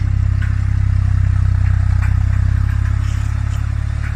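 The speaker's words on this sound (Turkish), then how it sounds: "arkadaşlar 52-65 traktörümüz ile kültefatör çekiyoruz 11'li yaylı kültefatör" A Tümosan 52-65 tractor in first gear pulls an 11-tine spring cultivator through wet soil, its engine a loud, steady low drone with a pulsing beat and faint clattering of the implement throughout.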